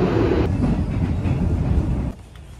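A suburban train on the Upfield line in Melbourne rolls along with a loud, steady low rumble that cuts off abruptly near the end, with no voices.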